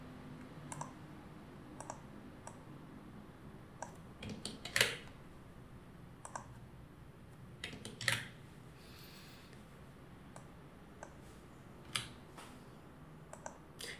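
Sparse, faint clicks of a computer keyboard while code is typed, a few isolated keystrokes spaced a second or more apart over a quiet room hiss, with a couple of slightly louder taps.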